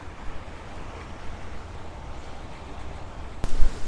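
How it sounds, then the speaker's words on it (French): Strong wind buffets the microphone on a riverside country path in Galicia, a steady low rumbling roar throughout with a sharper gust burst near the end; no talking. "il y a un vent d'enfer"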